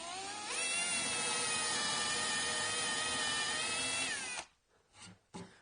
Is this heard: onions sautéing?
no